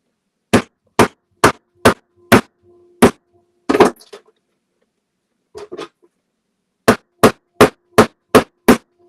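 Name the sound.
hammer striking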